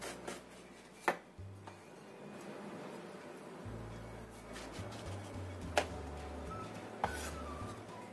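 A knife slicing eggplant on a board: a few sharp cutting taps spaced irregularly over soft rubbing and low kitchen hum, close but quiet.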